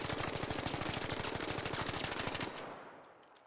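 Sustained rapid automatic fire from the Stitcher weapon in ARC Raiders, a loud, dense burst of evenly spaced shots lasting about two and a half seconds before cutting off into a fading tail.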